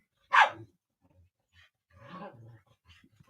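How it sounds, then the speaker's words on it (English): A dog named Rocky barks once, sharp and fairly close, just outside a door during a Christmas gathering, followed by a few soft growling, whimpering grumbles, with no voices over it. "Dog is right outside my door."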